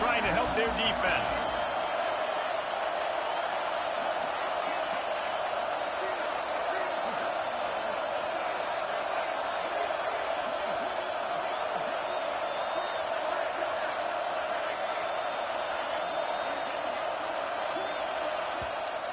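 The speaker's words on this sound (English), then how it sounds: "Listen to this crowd just shaking the girders of this place, trying to help their defense." Stadium crowd roaring at a college football game, a steady, dense wall of cheering sustained throughout, with a commentator talking over it.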